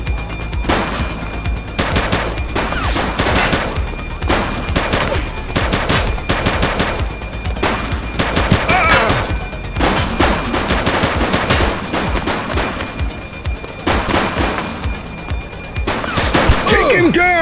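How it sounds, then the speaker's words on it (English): Rapid bursts of gunfire fill a police video game shootout, with dense, loud automatic volleys and single shots repeating throughout, while voices shout over the shooting. "Shots fired! Target is down. Don't make me drop you! He's shooting!"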